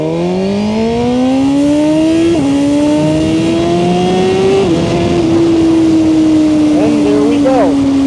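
A Suzuki GSX-R1000R motorcycle held near 10,000 RPM on launch control, its loud sustained engine note climbing steadily with brief dips as the clutch releases and the bike takes off, close and continuous.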